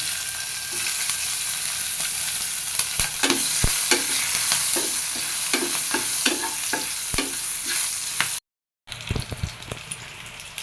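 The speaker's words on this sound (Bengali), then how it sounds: "তেল গরম হয়ে গেছে দিব জিরে ফোড়ন তার মধ্যে দিয়ে দিব কাঁচামরিচ" Cumin seeds and green chillies drop into hot oil and crackle with a loud, close sizzle, broken by sharp spits and pops, then a brief silence before the frying resumes.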